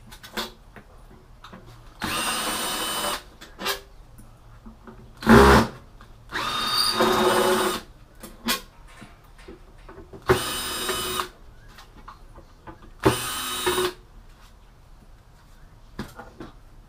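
A power drill backs screws out of an X-ray machine in short separate bursts, several whirring runs of a second or so with quiet pauses and a few clunks between them.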